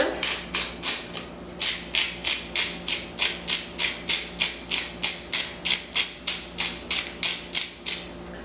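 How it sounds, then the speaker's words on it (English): A pepper mill cranks fresh black pepper over lamb chops, giving a steady run of about twenty-five rapid, even crunching clicks, close and crisp with no talking. "Fresh cut pepper is very important."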